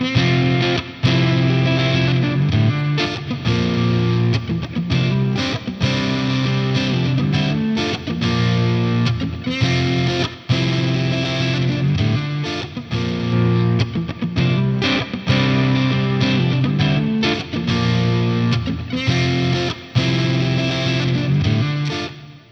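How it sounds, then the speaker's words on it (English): Electric guitar through a Lamb overdrive pedal, switched back and forth between two overdrive presets, plays continuous loud, driven chords and riffs with steady rhythm and no talking. "I can bounce back between the two just flawlessly like that."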